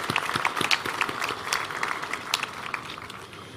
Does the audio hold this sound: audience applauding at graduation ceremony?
yes